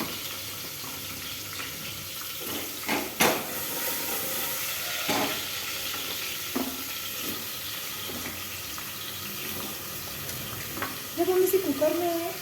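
Steady sizzling of carrots frying in ghee in a pan, with occasional scraping stirs and clinks, close and moderately loud.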